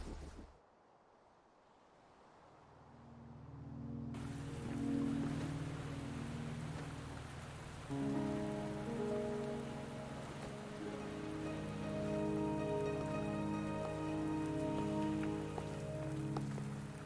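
Steady rain falls in the Wuthering Waves game, a dense even patter that fades in after a brief hush and carries on alongside a low sustained musical score.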